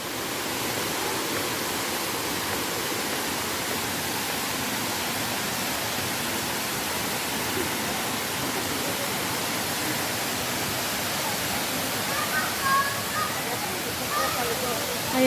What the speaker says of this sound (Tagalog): Ayan na po yung falls